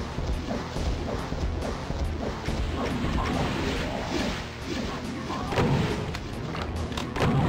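Rocket explosions in Voxel Doom 2: a dense run of booming blasts and crunching impacts, loud and close, piling up over game noise with no speech.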